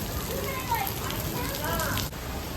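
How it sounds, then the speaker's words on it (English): Heavy tropical-style rain pours steadily at a lodge resort, a dense hiss of drops on surfaces, with a faint low rumble of distant thunder and brief voices underneath. "is like a tropical rainforest style downpour, and I don't know if you can hear that thunder, but it's rumbling the tumbly"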